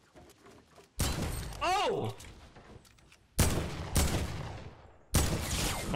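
Fortnite gunfire in a busy battle: several loud bursts of rapid shots come in clusters, each one sharp and close, with a player's excited shout rising between the volleys.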